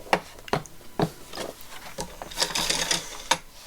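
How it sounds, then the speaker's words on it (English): A large paper trimmer slices through a stack of cardstock, giving a series of sharp, close clicks and thumps spaced about half a second apart, then a longer rasping cutting stroke near the end. "Don't know how many slices I can slice in one go on my large Timmy trimmer"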